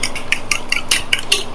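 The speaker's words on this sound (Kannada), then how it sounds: "ಈಗ ಸ್ವಲ್ಪ ಸಾರು ಹಾಕಿ ಮಿಕ್ಸ್ ಮಾಡ್ತೀನಿ." Rice and saaru (rasam) get mixed by hand in a plate, producing a quick series of close, wet squishing and light scraping strokes in an uneven rhythm, loud and alone without any talking.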